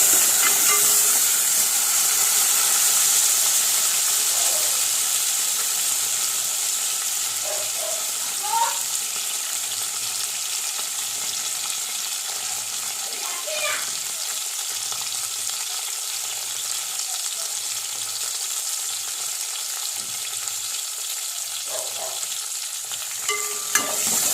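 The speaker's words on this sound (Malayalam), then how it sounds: "വെണ്ടയ്ക്ക ആദ്യമായിട്ട് നമുക്ക് വഴറ്റിയെടുക്കണം" Okra fries in a pan with a bright, continuous sizzle and hiss. Spatula scrapes and stirs come at an uneven pace, close by, with no talking.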